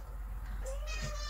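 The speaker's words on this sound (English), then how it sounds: "It was a cute meow." A cat gives a short, close meow, a brief rising cry standing out over steady low background hum.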